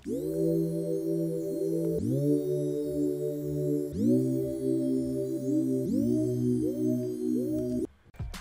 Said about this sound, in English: I added a second layer, which is a serum patch